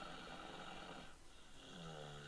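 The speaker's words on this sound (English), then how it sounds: "You hear my baby snoring? Yeah, she loud, ain't she, y'all?" A baby snores softly in a quiet room, a faint low rasp that fades briefly and then returns with a rising drawn-out tone.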